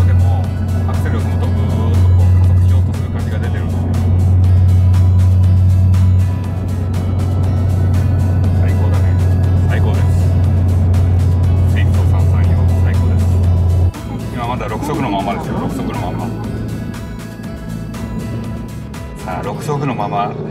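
A Suzuki Swift cruises in sixth gear on a highway, and the throttle is pressed for more pull. A steady low engine drone with road noise runs under someone talking inside the car, then eases off partway through.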